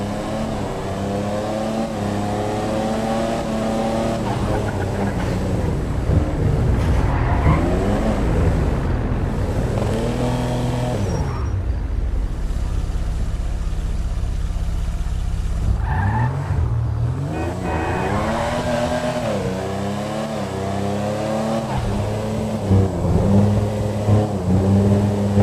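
Cars race in Grand Theft Auto Online, engines revving up and down continuously with tire squeals and skids, loud and close throughout with no talking.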